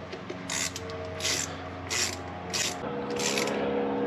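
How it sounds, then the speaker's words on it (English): A ratchet tightens a hose clamp on a 3D-printed tank mod for a Solstice, Sky or Opel GT, giving five evenly spaced bursts of quick clicking, close by, over a low steady hum. "we're gonna tighten that clamp up right there."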